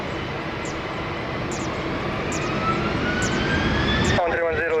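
A jet airliner takes off from runway 20 at Lisbon Airport with a loud sustained engine roar and rising whine, heard from nearby, while radio voices cut in toward the end.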